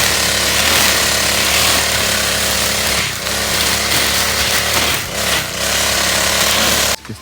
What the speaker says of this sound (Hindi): घास कट करना बहुत ज़रूरी है।